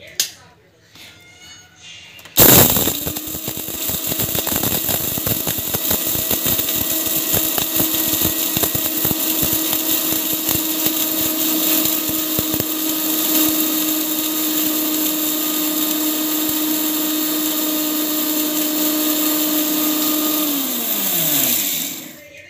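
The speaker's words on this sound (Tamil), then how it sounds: "நம்ம வந்து மிக்சியில் போட்டு ஒரு ஃபைனான ஒரு பொடியாக ஆட் பண்ண போகிறேன்" Kitchen mixer grinder powdering herbs for homemade ayurvedic hair oil, starting abruptly with a loud, steady high-pitched whirring drone that runs for about twenty seconds before winding down, with faint talk beforehand.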